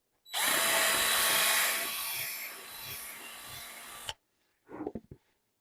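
A power drill whines loudly and steadily for about four seconds as it bores into wood, stops abruptly, then gives a brief second burst.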